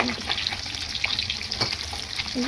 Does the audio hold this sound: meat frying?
yes